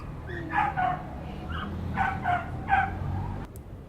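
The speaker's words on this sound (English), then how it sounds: "it's a dog. Several dogs." Several dogs barking in short bursts, a few yips and barks in clusters at moderate distance over a low steady background hum, with no talk.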